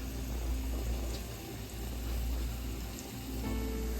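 Goulash sauce simmers in a pot on the stove, giving a steady, close, even bubbling hiss with no pauses and no talking.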